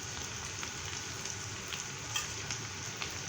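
Cumin seeds sizzle and crackle in hot oil for a tempering for green moong dal, a steady close-up frying hiss with small pops scattered throughout.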